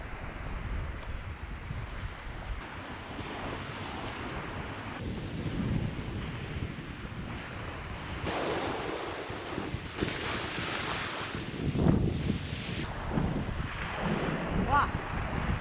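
Surf washes onto a seashore in a steady broadband roar, with gusts of wind buffeting the microphone and swells rising and falling at moderate distance; no voices are heard.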